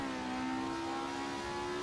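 A race car engine in Assetto Corsa at the Goodwood circuit revs hard and accelerates, a steady loud mechanical drone with a rising whine throughout and no talk.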